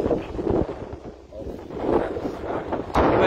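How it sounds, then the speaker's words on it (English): Wind blows into the microphone during an off-road drive, a moderate rumbling buffet that rises and falls in gusts across a few seconds. "oh no, it's a bit windy."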